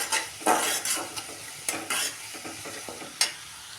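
Chopped onions frying with curry leaves in a pan for tomato chutney, a steady close sizzle broken by repeated scraping stirs and light clanks of the spoon against the pan.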